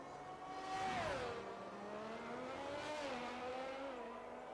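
Racing cars passing in an Austria race in a racing game, with rising and falling engine whines as cars sweep by one after another at moderate distance, under a steady track ambience.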